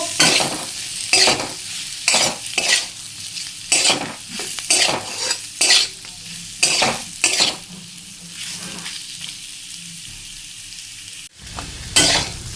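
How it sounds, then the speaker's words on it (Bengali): Jackfruit fried with spices in a pan, loud close sizzling with a steady rhythm of vigorous stirring strokes and scrapes, a brief pause near the end before another stir. "এখন আমি এই মশলার সাথে একটু ভেজে নেব কাঁঠাল"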